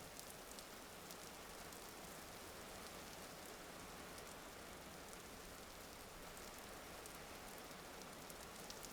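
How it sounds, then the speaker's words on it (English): Rain pours in the video game Vintage Story, a constant wash of falling drops at an even level with occasional brighter patters, and no voices over it. "I better hear rain"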